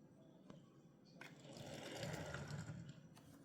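A Hot Wheels Dodge Rampage die-cast toy car, about 40 grams, rolls down a track, giving a steady whirring rumble that builds and swells toward the end, with a few light clicks along the way.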